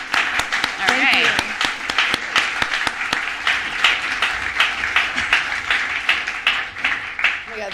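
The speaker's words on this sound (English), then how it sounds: "One more round of applause for Sweet Soft Plenty Rhythm and Laura." Audience applause at a book event, dense and sustained clapping from a crowd with a few whoops, loud and continuous, with a voice briefly heard among it.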